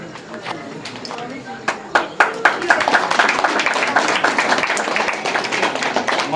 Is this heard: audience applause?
yes